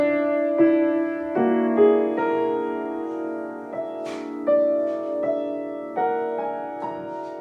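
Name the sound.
piano playing, bars 9 to 12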